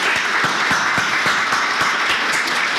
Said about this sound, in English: I would like all of you to welcome him specially with applause.